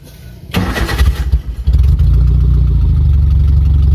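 Car engine cranking with a newly fitted starter, a loud rapid churning that catches and settles into a steady, close, rumbling idle.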